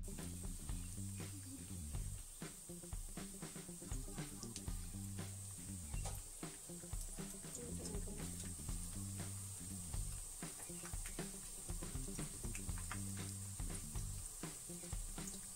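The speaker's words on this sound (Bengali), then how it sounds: "এখন আমরা একটি পাতিলে পরিমাণ মতো তেল নিয়ে নিয়েছি এবং সবগুলিকে এখন আমরা মিডিয়াম আঁচে ভাজবো।" Egg chops fry in a pot of oil at medium heat, half submerged, giving a steady close sizzle with constant crackling pops throughout.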